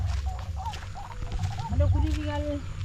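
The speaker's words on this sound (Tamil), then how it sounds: "காணாங்கோழி கத்துது" A white-breasted waterhen gives a series of repeated squawking, honking calls, rising and falling in pitch, with a low rumble underneath.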